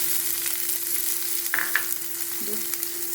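Onions sautéing in a pan for mushroom pepper fry, a soft steady sizzle with a few light stirring scrapes and clicks, close and fairly quiet.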